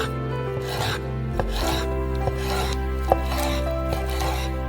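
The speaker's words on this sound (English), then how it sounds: "Cut them into pieces." A knife chops chicken thighs into pieces on a board, with a few close, soft cutting strokes and rubbing scrapes over steady background music, no talk.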